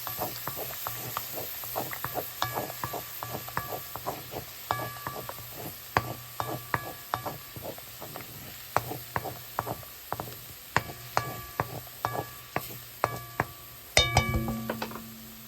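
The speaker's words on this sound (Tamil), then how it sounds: "இப்போ தக்காளியை ஒரு கொஞ்சம் நெய்யில் போட்டு வதக்கி போட்டு அந்த முட்டை கிரேவியோடு சேர்க்கலாம்" Tomatoes frying in ghee while being stirred, a soft sizzle under repeated light scraping and ticking of a spoon against the pan, close and quiet, with a louder clatter near the end.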